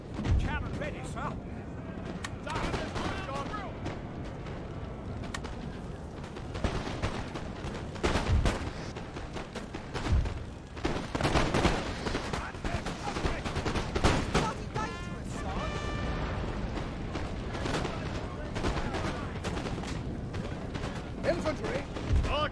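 Napoleonic battle in the video game Napoleon: Total War, with cannon and musket volleys firing repeatedly in dense bursts and booms, loud and continuous, while a voice talks over the gunfire throughout.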